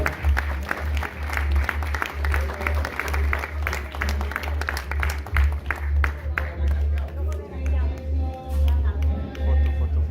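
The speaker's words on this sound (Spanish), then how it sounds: "Renovamos el aplauso para ellos." An audience applauds at a rock anniversary concert, sustained clapping that thins and becomes scattered toward the end, with a voice speaking over the crowd.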